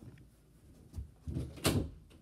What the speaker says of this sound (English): I just had to go shut my door.